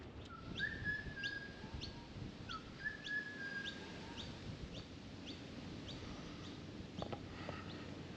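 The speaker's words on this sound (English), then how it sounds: "I think that's just a miner. I don't like miners. As in the birds." A noisy miner calls outdoors on a summer day in Sydney, with a few repeated chirps and short whistled notes at moderate distance over a steady wash of background noise.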